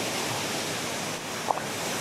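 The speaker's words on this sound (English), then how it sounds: "Look at that waterfall right next to us." A waterfall in a Dominica gorge pours as a steady, soft wash of rushing water close by, broad and even, with one brief tap near the end.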